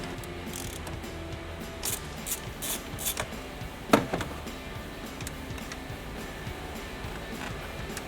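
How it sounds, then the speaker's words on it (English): A socket wrench works on the main positive battery terminal of a 2019-2021 RAM truck: several close, crisp ratchet clicks in uneven bursts, then one sharper metallic clack, over a faint steady hum with no voices. "you'll need a number 10 socket to disconnect the main positive lead."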